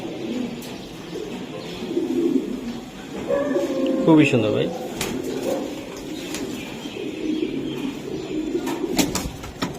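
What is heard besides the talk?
racing pigeons cooing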